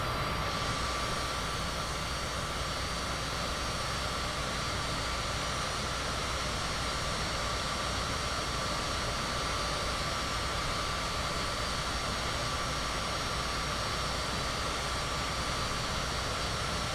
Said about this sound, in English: The Cessna Citation CJ4.